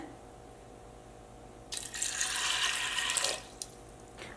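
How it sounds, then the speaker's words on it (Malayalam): Water splashes into a pressure cooker holding lentils, a short, close pouring stream of about a second and a half that stops, followed by a brief extra trickle. "അപ്പോൾ നമ്മൾ കുക്കറിലേക്ക് ഇടട്ടെ അപ്പോൾ ഇതിലേക്ക് നമ്മൾ പയർ വേവിക്കാനുള്ള വെള്ളം ചേർക്കാണ്"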